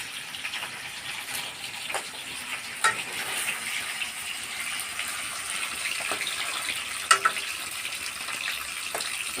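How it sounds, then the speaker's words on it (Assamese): Fish frying in a pan gives a steady broadband sizzle with occasional sharper pops and stirring clicks, close and continuous, with no voices. "মাছ ভাজি আছোঁ।"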